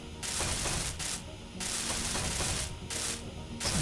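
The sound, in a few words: welding in the video game Space Engineers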